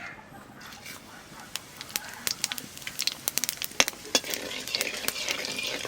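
Cumin seeds hit hot oil, a low sizzle that builds into rapid sharp crackles and pops, dense and irregular through the second half.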